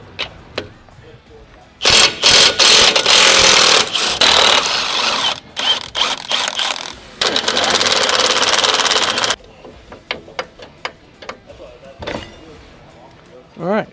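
Tools loosening the U-bolts on a Nissan Xterra axle during a Z1 U-bolt flip kit install, loud rapid rattling bursts of a few seconds each with sharp clicks and pauses between, close up.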